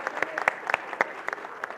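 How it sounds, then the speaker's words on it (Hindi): An audience at an awards ceremony for a cancer hospital claps, a short burst of scattered, moderately faint applause from a small crowd, the claps uneven and thinning out. "एक बार तालियां बजनी चाहिए कि नहीं बजनी चाहिए"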